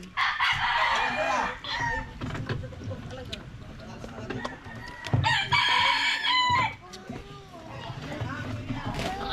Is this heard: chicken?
yes